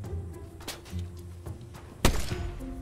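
A single gunshot fires in a shooter video game, a sharp loud burst standing out from low game background noise and scattered soft thuds.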